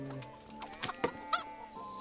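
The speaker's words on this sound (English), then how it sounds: "Smack a chicken." A chicken clucking in the video game Kingdom Come: Deliverance, a quick run of short, sharp clucks over about two seconds, close and fairly loud.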